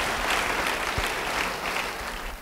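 A church congregation gives warm applause during a sermon, many hands clapping in a steady, full burst with a low thump partway through, and no speech on top.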